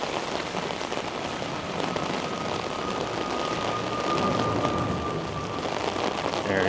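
Rain falls steadily in Vancouver as a dense, even hiss of drops on surfaces, with no voices and a faint tonal whine near the end.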